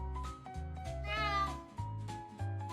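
A cat sound effect for a children's story about a lazy village cat: a few clear, drawn-out meows close up, rising and falling in pitch, with no talk.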